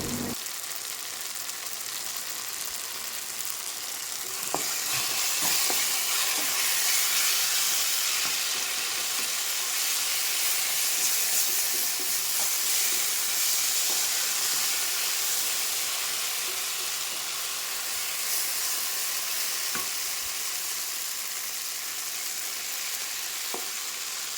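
Gongura and onion curry sizzling and simmering in a pan, a loud steady hiss of frying with faint stirring clicks throughout.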